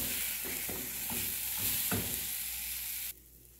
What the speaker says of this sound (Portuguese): Vou refogar aqui e eu já volto pra mostrar pra vocês.